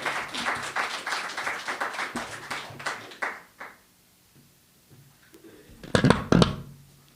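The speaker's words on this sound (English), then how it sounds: "So let's give her a round of applause." A small audience gives a short round of applause for a speaker, clapping loud at first and then tapering off into near silence. A few sharp claps and knocks return near the end.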